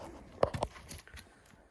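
A harness mare's hooves striking the ground, a quick cluster of three or four clip-clops followed by softer, fainter steps, fairly quiet and close.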